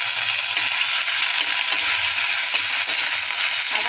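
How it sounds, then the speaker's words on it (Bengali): Dry red chillies and five-spice tempering sizzle and crackle in hot oil, a loud, steady, close frying hiss with no talk over it. "এই যে শুকনো লঙ্কাটা ফোড়নে দিয়ে দিলাম, আমি 5 ফোড়ন দিচ্ছি।"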